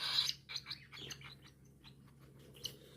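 Hungry young birds at feeding time give rapid, high-pitched chirps and tweets close by, a busy burst at first that thins into scattered calls, fairly faint over a low hum.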